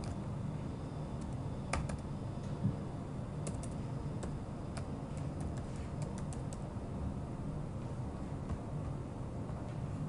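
Keys tapped on a computer keyboard while a vendor attribute label is entered in a Magento admin panel, a scattering of faint, irregular clicks under a steady background hiss.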